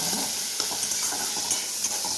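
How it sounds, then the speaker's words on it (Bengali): Tomato frying in a kadai, a loud close sizzle with scraping stirs at a quick, uneven rhythm and no talk. "এটা এখন একটু ভাজা ভাজা করি একটু ফ্রাই হবে"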